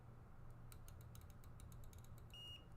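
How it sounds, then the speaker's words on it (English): A faint, short electronic beep from test equipment while a Wii is being modded with an HDMI board, sounding near the end over a quiet, steady hum and a few soft ticks. "I heard that beep"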